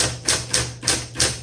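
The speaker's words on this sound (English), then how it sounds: "the power return makes your typewriter scoot around a bit" A 1960s Smith Corona Coronet Super 12 typewriter running its power return gives four evenly spaced, sharp mechanical clacks, close and fairly loud, over a low steady motor hum.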